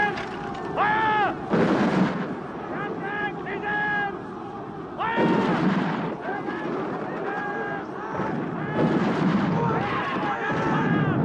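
Rifle volleys from a Zulu battle film: repeated loud gunshot bursts with crackling echoes and a rumbling battle din, mixed with shouting voices throughout.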